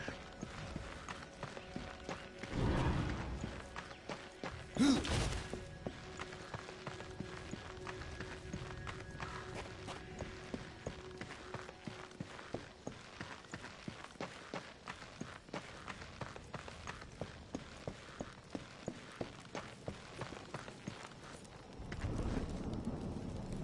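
Horse hooves clip-clop steadily in the video game Darksiders, a long run of regular sharp hoof beats at moderate volume, with a few louder whooshing bursts near the start and end.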